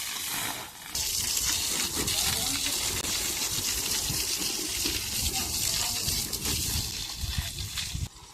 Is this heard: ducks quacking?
no